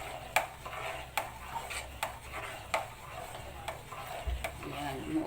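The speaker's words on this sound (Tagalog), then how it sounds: "Halo lang na halo hanggang hindi sa dumikit sa ilalim." A spoon stirs a thick cornstarch pandan jelly mixture in a pot, scraping and clinking against the metal in regular strokes about once a second, with faint speech in the background.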